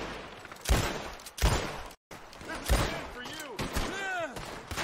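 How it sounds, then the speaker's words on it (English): Gunfire in the online mode of Red Dead Redemption 2: several sharp shots and bursts crack out unevenly across the span, fairly loud and close, mixed with other game sounds. "As you can see, I'm getting shot by"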